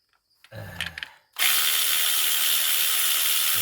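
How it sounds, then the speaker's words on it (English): A battery-powered 1/4-inch drive ratchet with a 10mm socket breaks loose a bolt on a Chevrolet Tahoe purge valve, giving a few short clicks and handling knocks, then a loud, steady motor whir that runs on close up. "of course, this is battery operated ratchet."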